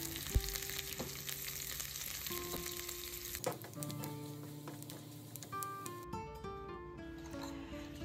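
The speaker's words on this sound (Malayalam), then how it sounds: "ഇതിലേക്കായിട്ട് കടുകും ചെറിയ ഉള്ളിയും വറ്റൽമുളകും കറിവേപ്പിലയും ചേർത്തുകൊണ്ട് വെളിച്ചെണ്ണയിൽ താളിച്ച്" Mustard seeds, shallots, dried chillies and curry leaves tempering in hot coconut oil for a moringa aviyal, a steady close sizzle and crackle running throughout, with a few brief clinks and some background tones.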